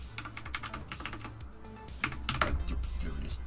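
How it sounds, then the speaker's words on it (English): Fast, furious typing on a computer keyboard: dense, rapid clicking keystrokes close by, continuous through the clip with brief bursts of heavier key presses. "Furious typing on the keyboard."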